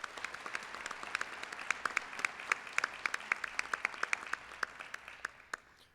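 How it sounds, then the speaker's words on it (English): An audience at a 2014 State of the City address applauds, a round of many hands clapping that starts at once, holds steady, and thins out toward the end. "Let's give him a round of applause."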